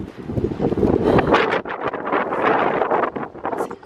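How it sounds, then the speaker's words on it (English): Strong wind during a 100 MPH windstorm roaring and buffeting outdoors, loud and continuous with gusty surges, battering the microphone with no voices. "Whew, it's windy out here."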